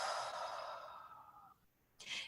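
A gentle, drawn-out exhale like blowing out birthday candles, soft and breathy, fading after about a second and a half, followed by a brief second puff of breath.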